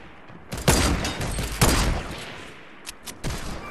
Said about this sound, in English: I'm shooting that asshole